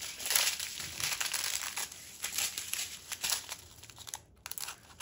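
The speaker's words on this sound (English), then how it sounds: "So I'm just going to go ahead and cut this." Plastic packaging of a diamond painting kit being cut open and crinkled, a steady close rustling and crackling of film and foil with a brief pause near the end, no talking.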